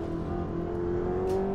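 A Ferrari 488 GTB in Assetto Corsa, fitted with hypercar road tires at Road Atlanta, drones at a steady high pitch that climbs slightly. The engine tone holds continuously at moderate loudness.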